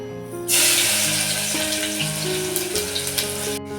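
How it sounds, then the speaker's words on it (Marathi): Garlic, cumin and mustard seeds hit hot oil in a pot and burst into a loud sudden sizzle that holds steady and close for a few seconds, with faint tonal hum beneath, before cutting off. "त्याच्यामध्ये मी तेल टाकते तेल टाकलेलं आहे हे बघा मी लसूण टाकते याच्यामध्ये लसूण जिरा आणि मोहरी"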